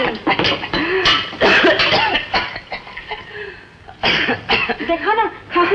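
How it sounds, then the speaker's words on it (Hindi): An ill boy in a 1964 film coughs repeatedly in harsh, close bursts, with throat clearing and short pauses between fits, while people talk around him. "देखा ना, खांसी कितनी बढ़ गई।"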